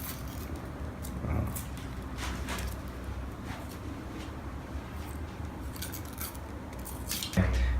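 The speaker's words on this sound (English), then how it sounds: "You can remove the sticker from all of them." Protective backing film being peeled from laser-cut acrylic kit parts for an Athorbot M10 Y-axis assembly, giving soft scratchy crackles and rustles in bursts, fairly close, with a sharper clunk near the end and no talking.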